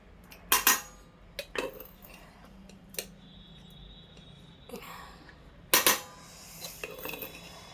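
Hot rice and fish curry are served onto a plate in a home kitchen, with several sharp metallic clinks of a serving spoon against dishes and softer scraping between them, no talking.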